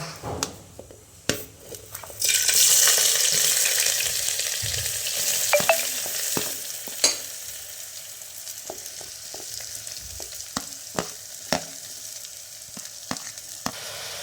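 Coconut oil sizzles and crackles steadily in a pan with mustard seeds, with sharp clinks and scrapes of stirring scattered throughout; no talking.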